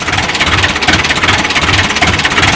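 A brand-new 2020 HH Dabung tractor engine idles close by with a loud, steady, throbbing chug and rattly vibration, with no voices present.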